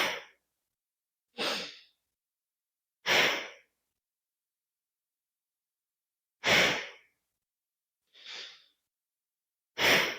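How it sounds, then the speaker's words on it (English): Slow yogic alternate-nostril breathing: six separate airy breaths, inhaling through the left nostril and exhaling through the right, each a soft hiss of a second or so with long silent gaps between, close and alone with no talk. "So you're inhaling through the left and exhaling through the right."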